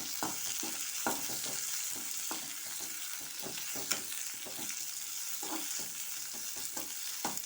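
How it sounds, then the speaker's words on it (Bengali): Chopped onion and garlic frying in a pan, a soft continuous sizzle broken by repeated scraping clicks of stirring at an uneven rhythm, close and fairly quiet. "এই যে রসুনটা একটু ভাজা ভাজা মতো করে নিয়ে এখন আমি পেঁয়াজ কুচিটা দিয়ে দিচ্ছি।"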